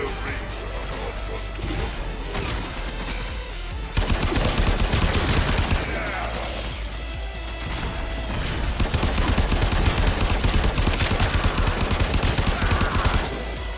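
Heavy gunfire in the video game Warframe: loud, rapid bursts and sustained volleys crackle almost without pause, growing denser after a sharp jump in volume a few seconds in, with crashing impacts mixed through.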